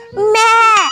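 A person loudly imitates a goat's bleat in one short, wavering, nasal cry lasting under a second, close to the listener.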